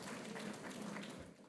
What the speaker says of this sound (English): Applause after I presented the names.